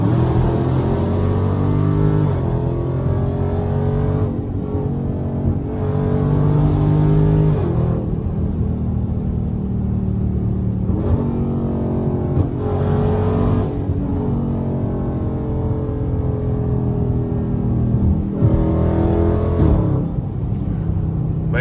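A 500hp Dodge Scat Pack accelerating hard through a highway tunnel, its loud engine roar climbing through repeated gear pulls with brief shift dips, echoing continuously for the whole stretch.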